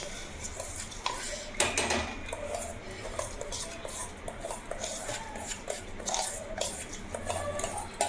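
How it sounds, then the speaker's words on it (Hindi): Raw rice, slightly warmed beforehand, being tipped into a metal cooking pot in a home kitchen, giving a steady clattering pour with scattered metallic knocks and scraping. "तो अब डाल दूँगी इसमें मैं चावल ये सारे"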